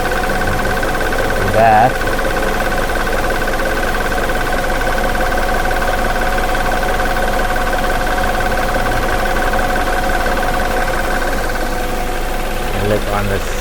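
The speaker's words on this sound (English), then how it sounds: "You can see the engine shaking now." A car engine with a check engine light and loss of power runs at a rough idle, a steady, close mechanical drone with a constant hum, while a person speaks briefly near the start.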